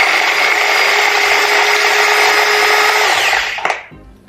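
A small electric kitchen chopper grinds garlic cloves with a loud, steady whirring buzz for about three and a half seconds, then cuts off with a click and a short rattle.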